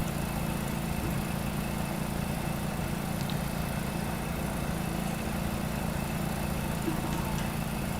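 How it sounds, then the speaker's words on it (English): A lawnmower engine in the Farming Simulator video game drones steadily at close range, a constant low mechanical hum with no change in pitch or loudness throughout. "Need a better transmission in this lawnmower."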